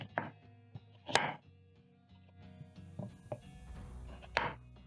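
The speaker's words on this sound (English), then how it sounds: "When done peeling your pumpkin, you're going to cut into" A knife cutting peeled pumpkin into medium pieces on a board, a handful of sharp, separate chopping knocks at an uneven pace, close and alone without speech.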